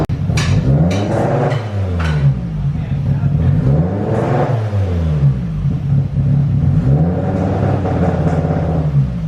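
A Mitsubishi Lancer Evolution IX engine runs up close, its mid-pitched rumble rising and falling in repeated revs, with voices talking over it.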